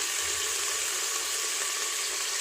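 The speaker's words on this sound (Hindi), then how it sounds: "सबसे पहले हम इसमें 1 बड़ा चम्मच ऑयल डालेंगे और उसके बाद ये हमने जो प्याज रखा है ये डाल देंगे।" Sliced onions fry in a spoonful of hot oil in a pan; a steady, close sizzle fills the whole stretch with no talking.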